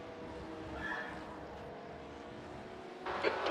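Race car engines in iRacing during the 24 Hours of Le Mans drone steadily at moderate volume, with another car's sound rising briefly near the start and a sharper burst of noise near the end.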